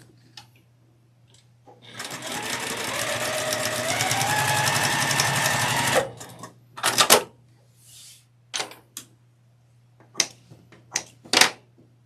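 A sewing machine joins half-square triangle quilt pieces in one steady loud four-second run of stitching, followed by scattered clicks and handling knocks of fabric and machine.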